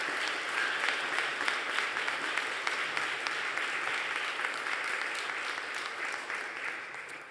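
Crowd at a university scholarships and awards day claps for the student government and royal court, a sustained, even burst of many hands with occasional sharper claps, tapering off at the end.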